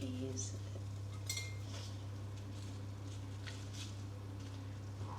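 A knife scraping and clinking against a metal baking tray while easing freshly baked cookies loose, small taps and scrapes over a steady low hum in a home kitchen.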